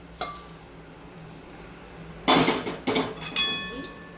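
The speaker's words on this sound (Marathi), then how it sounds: "राई भाजायला टाकते" Mustard seeds tip into a hot pan while a homemade Konkani spice masala is roasted, giving loud close rattling and clinking bursts against the metal after a quiet start, with a few lighter scrapes.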